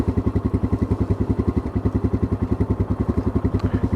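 Royal Enfield Himalayan single-cylinder engine running in gear, a close, loud, even low thump pulsing about ten beats per second with a faint rattle on top, no voices.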